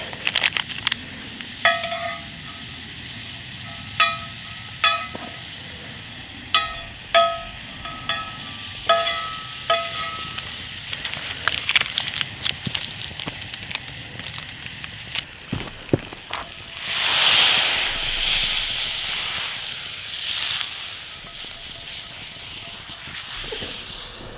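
A steak cooks in butter in a pan over an outdoor hunter-trapper cook fire, crackling with sharp pops and clicks at an uneven rhythm before a louder, rushing burst of sizzle that stays steady to the end.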